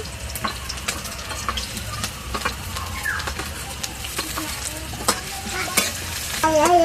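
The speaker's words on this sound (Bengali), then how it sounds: "আদা আর লঙ্কা একটু ভাজা ভাজা হয়ে গেছে" Ginger and green chili frying in refined oil in a karahi, a steady soft sizzle broken by frequent sharp spatula scrapes and taps against the pan, with birds cooing faintly in the background.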